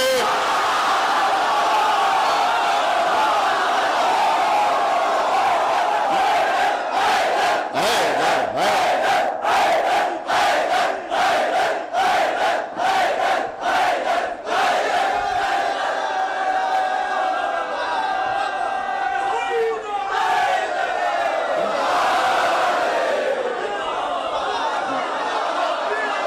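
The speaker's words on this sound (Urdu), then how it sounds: "یہ حیدر حیدر کے نعرے بتا رہے ہیں کہ اس مجمع کا اس مرحب سے کوئی تعلق نہیں ہے" A large crowd at a majlis in an imambargah chants the rhythmic slogan "Haidar Haidar" in loud repeated bursts, the massed voices rising and pulsing before settling into a sustained roar.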